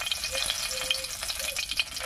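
Two torn dried red chillies fry in hot oil and ghee, giving a faint, steady crackling sizzle with light popping, close up and with no voices.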